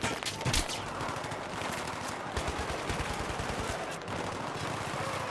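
Dense Battlefield 3 gunfire, rapid automatic bursts stacking into a continuous fusillade over battlefield noise, loud and close throughout.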